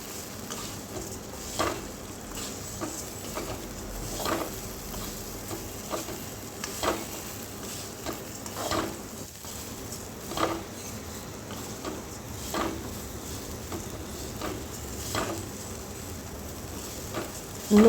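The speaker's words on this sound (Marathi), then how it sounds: "शेवया टाकून व्यवस्थित मिक्स करून घेऊया." Vermicelli (shevya) frying with turmeric in a pan, stirred in a soft continuous sizzle broken by regular scraping strokes of a spoon, close and fairly quiet, with no voices.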